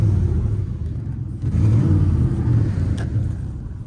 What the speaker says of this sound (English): That's how you start these Dodges up and warm them up.